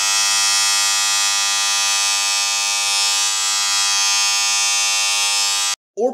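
An Andis hair trimmer running on a 220 V to 110 V voltage converter gives off a loud, steady electric buzz with a harsh whine, continuous for several seconds before cutting off abruptly.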